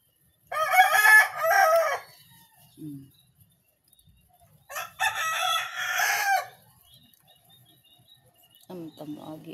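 A rooster crows twice in a rural yard, each call a loud, drawn-out cock-a-doodle-doo separated by a quiet gap, with a short cluck between and the start of a third crow at the end.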